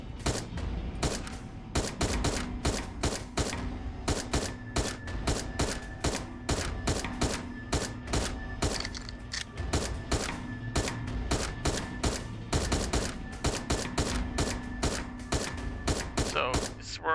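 Rapid, steady pistol shots at a shooting range in the video game Dino Trauma, dozens of sharp cracks in quick irregular bursts over a constant background hum, loud and close.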